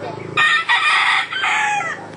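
Hens cluck and squawk loudly nearby, their calls overlapping in a brief noisy flurry.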